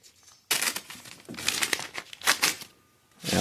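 Adhesive tape peels off the new paint of a mountain bike frame in loud, close crackling rips, coming in several bursts separated by brief pauses.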